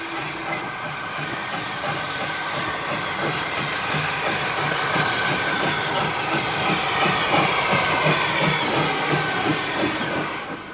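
A steam tank locomotive rolls into a station on the Forth Valley Railway, a steady close rumble with hissing steam and faint rhythmic wheel clatter that swells slightly as it draws near.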